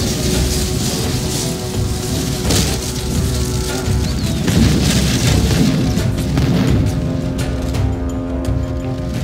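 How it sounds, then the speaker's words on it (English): Artillery firing into a melee in an Italian Wars strategy video game battle: a loud, continuous rumbling roar of booms and crashes that swells and overlaps throughout, with no distinct pauses. "The enemy artillery is firing into our tertiary, firing into the melee."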